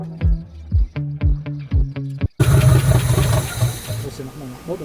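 An old Buick car engine cranks over several times in a rhythmic churn, then catches and runs roughly with a loud, rattly idle close by.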